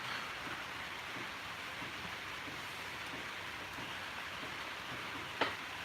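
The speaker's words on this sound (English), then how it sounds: "Getting rain here" Steady rain falls on a farm, a continuous soft hiss of drops with no talk, one brief sharp tap near the end.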